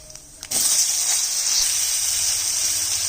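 Potatoes dropped into hot oil in a pan already tempered with dried red chilli and nigella seeds, for a home-style gourd-leaf and shrimp dish: a close, steady sizzling hiss that bursts in suddenly and holds loud throughout.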